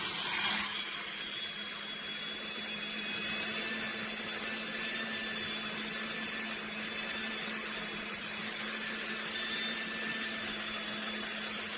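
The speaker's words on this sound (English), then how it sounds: "I'm taking this bit and I'm kind of going in this angle so I can bevel the back of this a little bit." A rotary tool bit bevels the back edge of a polymer clay pendant, giving a steady high-pitched whine with a continuous grinding hiss that holds nearly constant for the whole stretch, with no voices.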